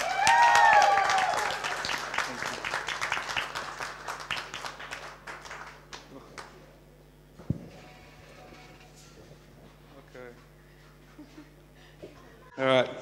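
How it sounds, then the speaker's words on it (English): Wedding guests applaud the groom at a reception, loud dense clapping at first that thins and fades within a few seconds into room murmur and scattered voices, with a brief burst of sound near the end. "give a big round of applause for our groom"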